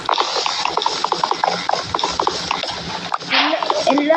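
Repeated rhythmic rasping, chopping knocks of wood being broken from a tree in the Minecraft video game, steady and close, a dense run of hits over a brief span, with a brighter burst near the end.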